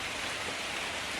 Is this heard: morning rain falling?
yes